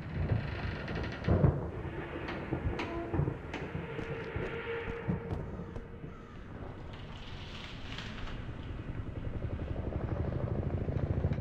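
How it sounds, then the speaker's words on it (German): A video game Korean reconnaissance helicopter in Homefront: a low, rumbling rotor drone builds steadily, with wind-like noise and a few thuds, growing louder toward the end, no talking. "Ich höre einen Helikopter."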